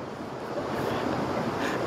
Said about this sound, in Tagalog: Wave.